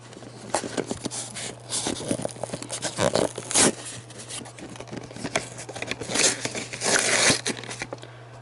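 A D&D miniatures booster pack is torn and unwrapped up close, with plastic crinkling, tearing and rustling in irregular bursts and no talking.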